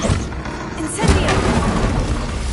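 A fiery Incendio spell cast in a Hogwarts wizarding game, a loud booming burst about a second in that roars on as a sustained, crackling rush, with faint speech underneath.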